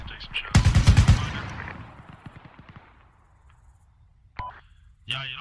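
Gunfire in the military video game Arma 3: a loud rapid burst of automatic fire followed by a long echoing rolling tail and scattered distant shots, with brief radio-style voices at the end.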